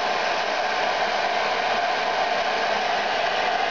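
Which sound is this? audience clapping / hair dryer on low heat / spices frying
hair dryer on low heat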